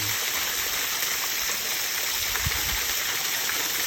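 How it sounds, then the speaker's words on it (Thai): Tat Ton waterfall at Ban Wai Hat in Thailand, a steady, even wash of rushing water heard close and continuous, with no speech. "มันเป็นน้ำตกตาโตนเนาะตั้งชื่อน้ำตกตาโตน"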